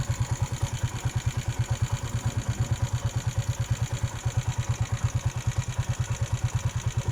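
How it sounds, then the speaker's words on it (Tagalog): A motorcycle engine labours in low, rapid, even pulses while crawling through deep mud in the remote Canlubang, Laguna countryside, loud and close without letting up. "Pagagapangin natin yung motor."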